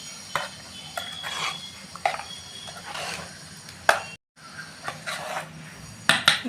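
Yogurt being stirred into a Sunday biryani marinade in a pot, with a series of soft clinks and scraping strokes of a utensil against the vessel, close by and moderately loud, with a brief pause midway.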